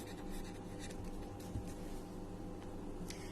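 Marker or chalk writing on a board during an algebra class, a steady faint scratching texture that runs continuously and close, with no talk over it.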